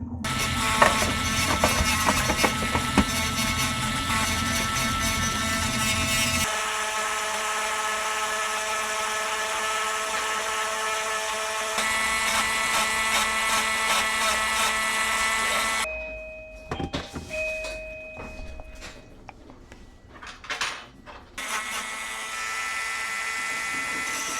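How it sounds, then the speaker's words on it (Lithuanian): Grinding tool working across the layers of a cracked Lenovo LOQ 15 laptop motherboard, a steady loud mechanical whir that shifts pitch in stages and breaks into short bursts and pauses near the end. "Šlifuoju viską taip kampu, kad atskirtų tie sluoksniai ir nesistrumpintų."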